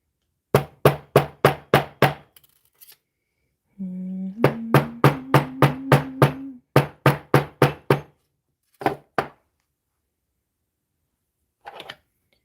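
Brisk, loud hammer taps on a wire craft piece come in several quick runs separated by pauses, with a short hummed tone briefly sounding between the strikes.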